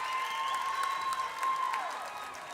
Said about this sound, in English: And the crowd likes that one.